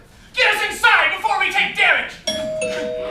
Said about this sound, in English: That's not a sandstorm, that's my doorbell.